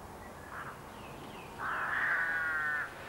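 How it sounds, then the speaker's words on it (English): Rooks foraging for seeds and carrion at a roadside in the Hougham Valley near Folkestone, Kent, give a couple of harsh caws, a short faint call followed by a louder, drawn-out one, fairly close against quiet outdoor background. "Rather larger are these rooks, looking for seeds and carrion at the side of the road."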